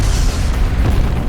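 Deep, continuous rumbling roar of a Mount Baekdu volcanic eruption, heavy and loud throughout with no breaks or distinct blasts, like a sustained explosive boom filling the space.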